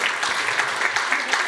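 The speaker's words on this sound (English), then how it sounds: "They're clapping you." Collingwood football fans at a sold-out Aussie Rules footy show clap together, a dense, steady wash of applause from a sizeable crowd, even and sustained without pause.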